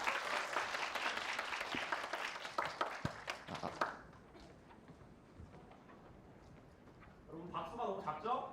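An audience at a youth study camp concert claps loudly and densely for several seconds, then the applause fades to a faint murmur of room noise before a voice begins speaking over a microphone.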